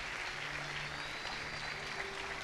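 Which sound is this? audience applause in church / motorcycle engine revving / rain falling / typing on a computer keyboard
audience applause in church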